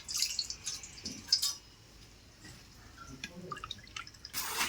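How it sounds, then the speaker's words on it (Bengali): Semolina washed in water by hand, with close splashing and dripping sounds in short irregular bursts, some quieter pauses between. "দুই থেকে তিনবার সুজিটা আমি ভালো করে ধুয়ে নেব জল দিয়ে"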